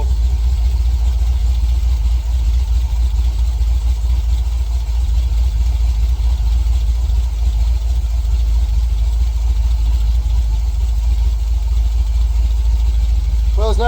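A freshly built 6.1L HEMI SRT8 V8 idles in a Jeep Grand Cherokee, a steady close low rumble with faint lifter ticking and cam noise running throughout, and a brief rising rev at the very end.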